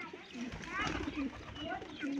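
Pigeons at a zoo enclosure give soft, low repeated coos at close range, running continuously under people talking nearby.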